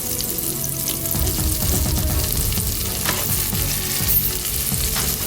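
A tablespoon of garlic frying in a hot pan gives a steady, close hiss, with stirring and scraping throughout and no talking.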